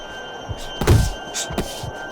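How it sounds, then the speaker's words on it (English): A left-hand boxing punch lands in the Fight Night Champion video game during an Oscar De La Hoya versus Zab Judah bout, a heavy dull thud followed by a second lighter impact, with soft crowd murmur beneath. "that's a big shot with the left hand"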